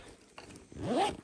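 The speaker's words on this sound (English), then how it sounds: "It's got a large interior zip," A large interior zip pocket on a Billy Bag London leather handbag being unzipped, a single close, quiet rasping pull that rises to a brief louder scrape near the end.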